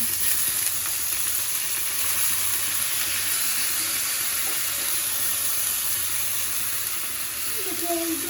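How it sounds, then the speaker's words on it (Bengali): Rice frying in oil in a pan, a loud continuous crackling sizzle close up, steady throughout with faint stirring noises underneath. "এখন চালগুলো দিয়ে দেবো, বেশি কড়া করে আবার ভাজা যাবে না"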